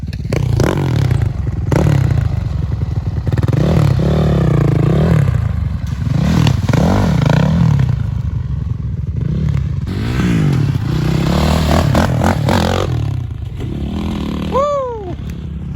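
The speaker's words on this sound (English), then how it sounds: "This is only her second time dirt biking and she's riding a 450 WR." A Yamaha 450 WR dirt bike ridden off-road, its engine droning and revving steadily throughout with rising and falling pitch, loud and close, with clattering and scraping from the terrain.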